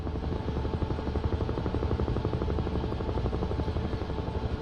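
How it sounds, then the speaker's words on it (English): Helicopter in a video game flying steadily, a dense continuous rotor thrum with rapid chopping pulses that stays loud and even throughout, with no voices. "Just going to speed this helicopter up a little bit."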